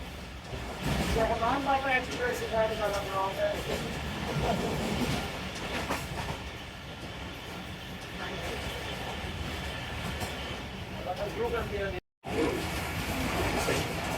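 The Shalimar Express rolls through Saiya station while crossing train 47, a sustained rumble of wheels and carriages with rhythmic clatter and a brief cut near the end.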